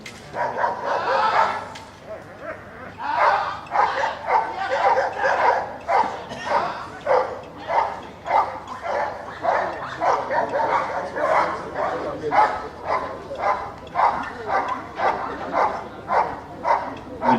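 A police K9 dog barks repeatedly in a steady rhythm at a police command kennel center, with loud close barks and some yips, while people talk in the background.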